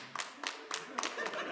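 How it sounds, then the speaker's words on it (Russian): A stand-up comedy concert audience gives scattered, quiet clapping: a handful of separate claps at loose intervals that build toward a brief patter at the end. A voice sounds faintly in the background. "Поаплодируйте."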